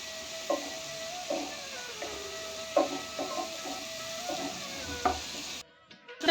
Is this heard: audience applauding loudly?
no